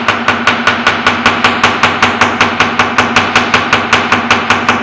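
Steady, rapid hammer blows pounding plant material into fabric for Hapa Zome eco printing, each strike sharp and close, repeating about four times a second with no talk.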